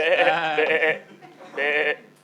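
Sheep and lambs bleat as a radio drama effect in a live show: two drawn-out, wavering bleats, close and clear, split by a short pause.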